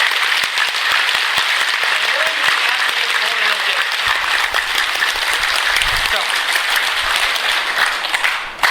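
Loud, continuous clapping from an audience at a life-goals and happiness seminar, steady and close with some voices underneath.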